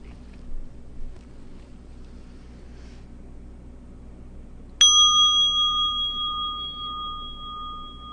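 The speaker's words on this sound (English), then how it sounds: "Seeing if we can listen to the bell from beginning to end." A single meditation bell struck once, ringing out clearly over quiet room hiss and slowly decaying with a long, sustained shimmering tone.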